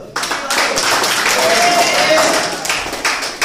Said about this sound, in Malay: saya nak tuan-tuan bagi tepuk tangan gemuruh untuk MC kita